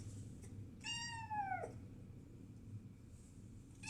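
A young tortoiseshell foster kitten gives a single clear, drawn-out meow that falls in pitch, close and fairly loud over a quiet indoor background.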